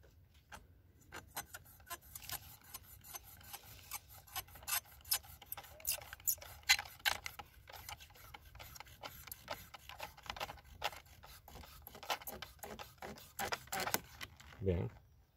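A Muela M 85181 knife, a large Spanish survival blade, is drawn through material in a cutting test, making repeated rasping, scraping strokes in irregular bursts at close range, with a voice talking in the background.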